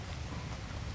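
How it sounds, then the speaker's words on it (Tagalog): Steady rain falls across an urban garden on a rainy afternoon, a continuous soft hiss of drops with no talking, even and close throughout the short stretch. "Kasi it's raining."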